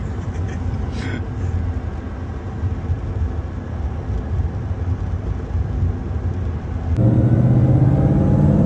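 Bugatti Chiron Super Sport under way, a steady close engine and road rumble that swells louder and deeper near the end as the car accelerates, with no talk over it.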